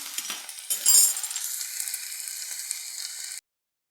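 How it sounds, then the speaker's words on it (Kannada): Onion, chana dal, urad dal, mustard seeds and curry leaves hit hot oil for a tempering, bursting into a loud close sizzle that settles into a steady hiss before cutting off abruptly. "ಈರುಳ್ಳಿ ಕಡಲೆಬೇಳೆ ಉದ್ದಿನಬೇಳೆ ಸ್ವಲ್ಪ ಸಾಸಿವೆ ಕರಿಬೇವು ಸೊಪ್ಪು ಹಾಕಿ ಒಗ್ಗರಣೆ ಮಾಡಿ ಇಟ್ಕೊಂಡ್ರೆ"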